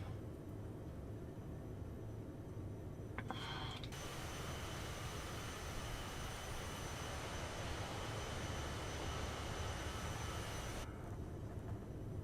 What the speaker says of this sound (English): Focus set, power set for takeoff.